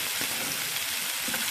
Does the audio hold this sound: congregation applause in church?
no